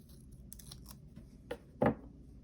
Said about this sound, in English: I'll cut this one in half.